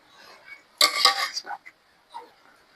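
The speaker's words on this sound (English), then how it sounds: "we will put yogurt, this kind of curd yogurt, like this" Curd yogurt spooned into a bowl while butter chicken is being made: a loud metallic clink and scrape of a spoon against the bowl, then a couple of softer taps, close, with quiet pauses in between.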